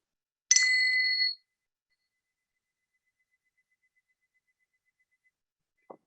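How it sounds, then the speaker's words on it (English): A meditation bell is struck once, giving a clear, bright ringing tone that fades away within about a second and leaves near silence. "I'm just going to ring the bell"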